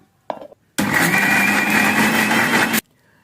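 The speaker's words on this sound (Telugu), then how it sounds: "మిక్సీ పట్టుకోవాలి." A mixer grinder runs in one loud, steady burst of about two seconds, after a brief clatter, then stops abruptly.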